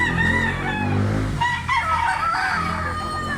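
A white hackle stag rooster crows loudly and close, one long drawn-out call that rises and then breaks into a wavering tail, with no talk over it.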